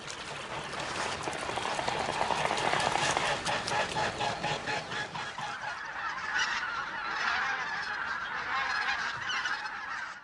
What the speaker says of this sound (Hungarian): Októberben több ezer vetési lúd és nagy lilik száll le a Morva partjaira.